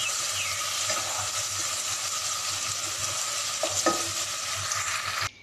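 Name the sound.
sautéing cumin and coriander spice mixture for rohu fish curry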